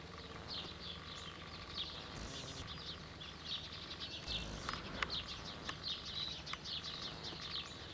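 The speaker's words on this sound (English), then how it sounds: "All the birds singing this morning. Cockatoos." A faint, distant chorus of birds sings and chirps continuously in an Australian garden in the morning, with harsher cockatoo calls mixed in among the lighter tweets.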